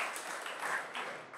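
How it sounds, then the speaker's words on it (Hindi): A group claps for themselves during a lesson, producing a soft, steady wash of many hands that stays fairly quiet and distant for the whole moment, with no voices on top. "बजाओ ताली अपने लिए"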